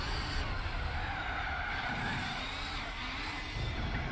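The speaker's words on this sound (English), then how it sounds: "Getting a little bit of spinning there in third there." Race car wheelspin and screeching tire skid in Gran Turismo 4 during a GT World Championship race, a steady loud engine roar with continuous tire squeal throughout.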